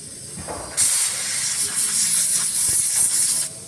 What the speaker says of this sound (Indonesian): Lalu kita bersihkan menggunakan kompresor